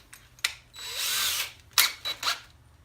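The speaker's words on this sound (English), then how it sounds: "So I got my 1/4 inch drill bit." A power drill with a quarter-inch bit whirs briefly through material, followed by a few short high-pitched bursts as the bit spins, close and fairly loud.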